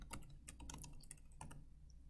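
Quick bursts of key presses clatter on a computer keyboard, soft and close, in an uneven rhythm with short pauses between groups of keystrokes.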